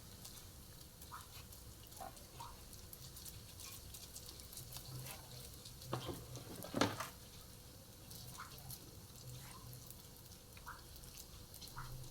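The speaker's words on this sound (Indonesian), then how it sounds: "goreng donatnya sampai selesai ya." Donuts fry in hot oil for a basic home-made batch, giving a faint, steady sizzle with occasional soft clinks and stirring taps, no talk.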